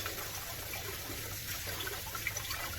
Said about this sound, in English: it'll give me a good look and a good baseline of what's to come with this leather here. Just rinse it all off.